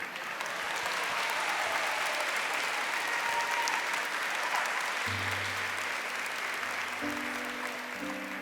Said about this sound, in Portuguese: Não, aplaude direito, gente.